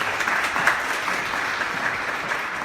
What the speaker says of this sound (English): Clap it up for yourselves.